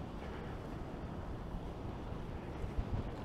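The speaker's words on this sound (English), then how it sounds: "As I suddenly find myself walking into a pretty good wind here." Strong wind buffets a microphone on a walk along the Toronto waterfront, a continuous low rumbling roar with gusty swells and no voices.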